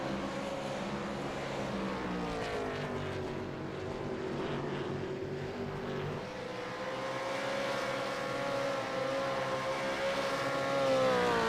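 Race cars in a sim racing game's qualifying session at Road America drone continuously, with engines revving and shifting pitch as they pass, loud and dense with no pauses.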